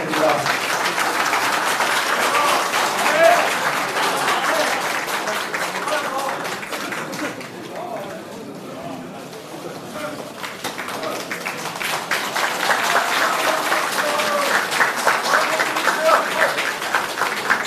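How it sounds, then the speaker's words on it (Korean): Sustained audience applause closing a 2017 Korean presidential candidacy declaration event, a dense wash of clapping that dips briefly midway and then swells again, with voices mixed in. "박수 부탁드립니다."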